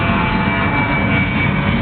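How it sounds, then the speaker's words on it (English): A fixed-wing airplane passing overhead near an airport, heard as a steady, loud broadband jet roar that holds evenly for the whole stretch without any talking. "There's a plane going over now"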